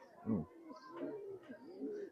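An old-bloodline chot pigeon from Khulna coos in a few soft, rolling phrases close by, with low murmuring calls rising and falling over a quiet background.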